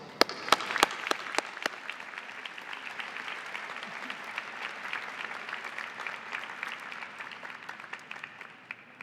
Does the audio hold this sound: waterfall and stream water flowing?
no